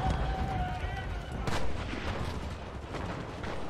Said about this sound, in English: They're using their MGs against us.